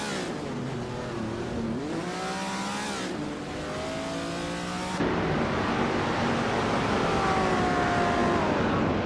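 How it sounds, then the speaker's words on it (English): A 1962 Ferrari 250 GTO race car in a racing video game, its engine revving and shifting through gears in a loud, continuous drone with rising pitch sweeps, close and alone without voices. "Bot Lord Betril is driving a 1962 Ferrari 250 GTO"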